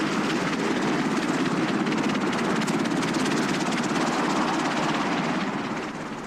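CH-53 Sea Stallion helicopters drone steadily and loudly throughout, their rotor chop and engine roar forming a continuous dense wash that eases slightly at the end.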